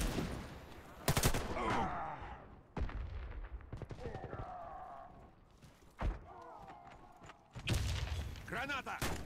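Grenade blasts and bursts of rifle fire in the video game Warface pop up between stretches of quieter battle noise, several sharp loud cracks and thumps spread across the moment while voices talk in the background.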